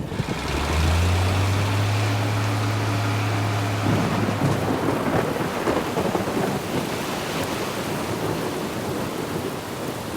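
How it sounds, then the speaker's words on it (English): A thunderstorm at an offshore oil platform: a deep rumbling thunder roll opens under a dense, continuous roar of heavy rain that stays loud and steady throughout. "The storm suddenly strikes."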